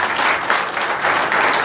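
Audience applause at a spiritual talk in Delhi, a steady sustained clapping from a crowd filling the whole moment, loud and continuous without speech.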